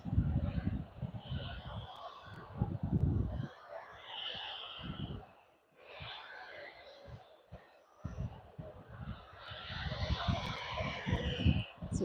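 A Jet2 airliner arriving at Manchester Airport from Rhodes, heard as a broad, rumbling engine roar that swells, dips and swells again, mixed with nearby voices.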